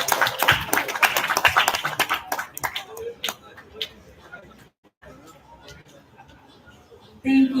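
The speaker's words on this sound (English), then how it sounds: "Give it a round of applause." Audience applause at an appreciation ceremony, dense and loud for the first two seconds, then thinning into scattered claps and murmuring crowd noise before a brief loud burst at the end.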